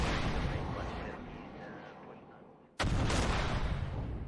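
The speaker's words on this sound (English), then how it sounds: "Another missile's hit." Missile strikes a warship in a naval warfare simulation game, a roaring blast that fades over a few seconds before a second sharp explosive burst cuts in loud and sustained.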